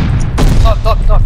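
Sharp gunshot bursts from Call of Duty: Vanguard ranked play cut in loudly, followed by brief electronic tones, with a low background hum.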